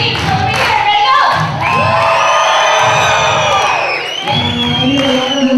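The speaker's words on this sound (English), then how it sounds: "When you guys see something awesome, I need to hear you scream. So let me hear it." A crowd of children at a black belt martial arts show cheers, screams and whoops in several loud sustained bursts, with some thumping and brief pauses between surges.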